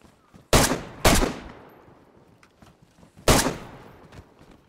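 Gunfire against wolves in the game DayZ: three loud, sharp close shots, two about half a second apart and a third after a pause, each with a short decaying tail.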